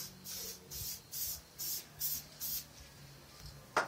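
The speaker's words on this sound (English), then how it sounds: "I'm going to be spraying this area over here." Short bursts of spray paint laying a light coat on an RC car body, about seven even hissing puffs in a steady rhythm, close and fairly quiet, ending with a brief knock.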